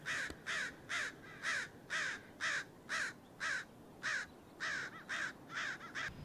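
A crow caws repeatedly outdoors, a steady run of about fourteen harsh, evenly spaced calls, clear and fairly close with no other sounds competing.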